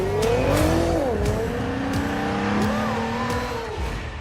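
In a Nissan commercial, a car drives hard with engine tones sweeping up and down and tires squealing through turns, loud and continuous, with brief sharp accents.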